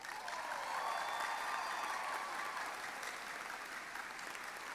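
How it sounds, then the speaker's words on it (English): Steady applause from a crowd at a commencement ceremony, a dense patter of clapping that holds evenly for a few seconds and eases slightly toward the end. "I believe they deserve a great round of applause"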